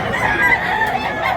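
A rooster at a busy market in Tabunok, Cebu, crows loudly and close by amid clucking fowl and a noisy crowd in the background.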